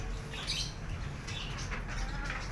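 Birds chirping and flapping outdoors near a yard with chickens and a rooster, a busy layer of tweets and wing flutters over steady low background noise.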